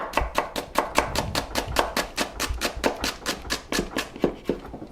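A knife thinly slices half a shallot on a cutting board, giving a steady run of quick, crisp chops close by, about three to four per second, with no talking.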